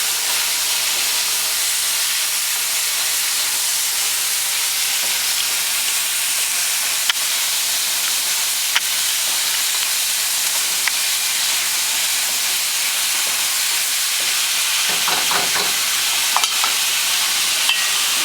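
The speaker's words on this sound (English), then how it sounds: "We're just going to mix it in a little bit" Beef stir fry with black bean sauce being stirred in a pan, a steady loud sizzle and steam hiss running throughout, with a few soft scrapes of the spoon near the end and no voices.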